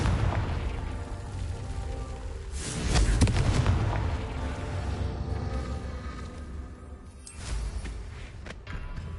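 A Confringo fire spell from Hogwarts Legacy erupts in loud booming blasts, one near the three-second mark and another around seven seconds, over a steady rumbling game-mix background.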